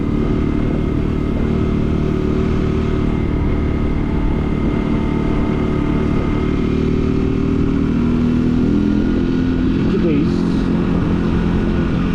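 A small 50cc RKS Easy Pro motorcycle engine drones steadily throughout, a continuous low hum close by with no pauses.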